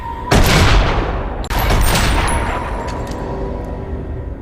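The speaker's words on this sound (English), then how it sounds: "then just starts shooting the fuck out of everybody there" Two loud, sharp bursts of handgun fire in an action film, each followed by a ringing, fading tail, close and dominant over a soundtrack background.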